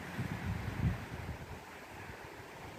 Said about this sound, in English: It's pretty windy here today.